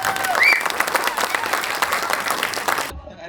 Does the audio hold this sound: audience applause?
yes